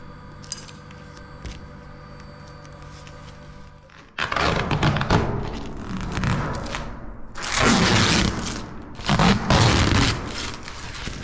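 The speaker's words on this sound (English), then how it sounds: "So I'll pull these mats off, or all these light covers off, and see how it looks in here." Plastic covers being peeled and pulled off booth lights inside a new paint booth, tearing and scraping rips in bursts after a quieter hum, close and loud.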